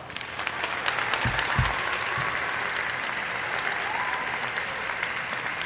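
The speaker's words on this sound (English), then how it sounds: "hey, round of applause." A room of people gives a round of applause, dense clapping that holds steady for several seconds, with a couple of low thumps near the start and faint murmuring underneath.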